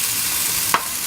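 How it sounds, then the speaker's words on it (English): Food sizzles steadily in a pan over an indoor fire at a camp, a stir fry frying with one brief louder hiss or clatter near the end. "So this is my first time I'm making stir fry on here."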